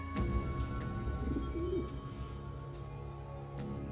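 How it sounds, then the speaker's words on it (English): Real doves placed in a magician's special box give soft, low cooing calls close by against a steady background murmur, with a few faint chirps and clicks. "These are real doves."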